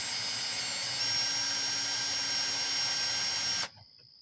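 A power drill bores into a spent brass cartridge clamped in a flimsy vise, a steady high whine with a slight pitch step partway through before it cuts off abruptly near the end.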